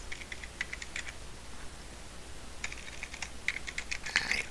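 Typing on a computer keyboard, steady bursts of crisp key clicks with short pauses between runs, close and fairly quiet with no talking.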